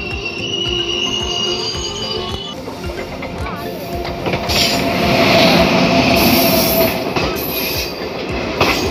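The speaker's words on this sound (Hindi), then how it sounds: "ये ट्रेन है देश की पहली गरीब रथ एक्सप्रेस, जो अमृतसर से सहरसा के बीच चलती है।" A Garib Rath Express train passes on broad gauge track, its loud rumbling wheels clattering over the rails with squealing and a rising roar as the coaches sweep close by, while voices are heard.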